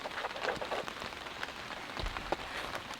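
Steady heavy rain patters on the fabric of a hot tent at a camp in cold weather, a dense close hiss of drops with a few louder individual hits.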